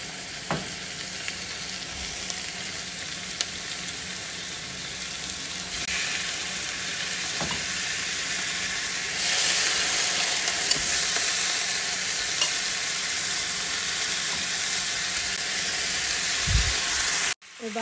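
Chicken pieces fry in ghee with onions and spices for a red kabsa, giving a steady close sizzle and hiss that swells louder midway, with occasional stirring scrapes and no talking.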